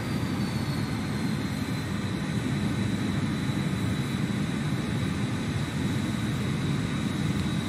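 An F-14 Tomcat jet engine idles in the DCS World flight simulator, a constant broad roar with a steady high whine, continuous and unchanging with no talk.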